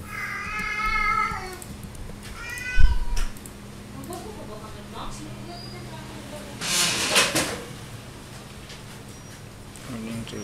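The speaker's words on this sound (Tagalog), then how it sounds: "Pwede pakipasok ng pusa." A house cat lets out several drawn-out meows in the opening seconds, close by, followed later by a bump and a brief burst of rustling noise against a low background hum.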